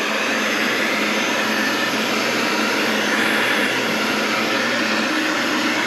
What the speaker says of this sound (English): this heat gun gets a lot hotter